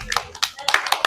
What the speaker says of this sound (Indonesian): selamat tepuk tangan dulu